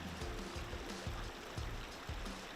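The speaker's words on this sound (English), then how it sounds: "Stop and notice the river." The Cass River flowing, a faint, continuous watery rush with soft gurgling pulses, heard alone without talk.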